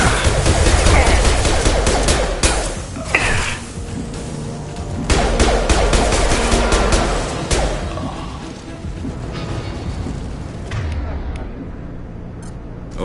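Heavy gunfire in the video game Mass Effect 2 Legendary Edition on PS4/PS5, loud sustained bursts and crashes filling most of the stretch, then thinning out toward the end.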